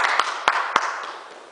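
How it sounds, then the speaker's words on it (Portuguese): A few scattered claps in a church for Paulo, three distinct sharp hand claps about a quarter-second apart, close and fairly loud, fading into a light background murmur. "Uma salva de palmas para Paulo."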